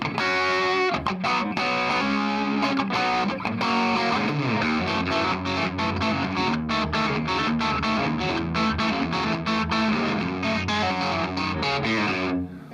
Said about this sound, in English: What I also like about these pedals is it's something I look for in a distortion pedal